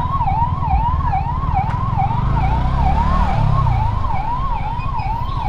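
An ambulance siren wails in a steady, repeating up-and-down pattern while the vehicle is stuck in a traffic jam, loud and close over the low rumble of idling engines.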